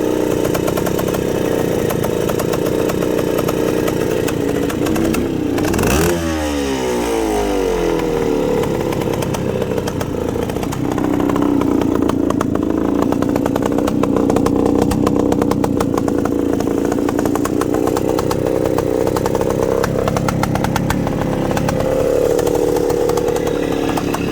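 A 1974 Bultaco Alpina 350, an original big-bore two-stroke motorcycle, runs steadily nearby with a buzzing, raspy engine note, briefly revving up and settling back around the middle before holding a loud, even idle.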